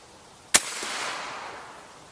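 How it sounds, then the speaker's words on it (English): A single sharp crack from a .54 caliber air rifle firing into ballistic gel at 54 yards, followed by a faint lingering echo that slowly fades, with no talk. "we're gonna shoot some ballistic gel now at 54 yards"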